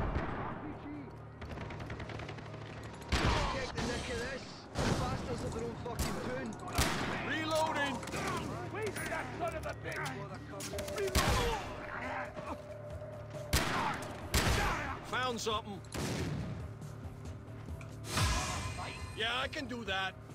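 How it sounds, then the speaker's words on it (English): Far Cry 3 co-op combat with repeated gunfire bursts and sharp explosive blasts at irregular intervals, a voice talking in between. "See? Explosions."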